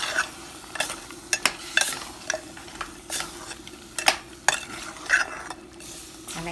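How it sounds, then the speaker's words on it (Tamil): Spoon stirring salt into a mutton and ridge gourd curry in a pot, with repeated scraping clinks against the metal at an uneven rhythm over a faint sizzle, close by and without talk. "போட்டு நல்லா கிளறணும்"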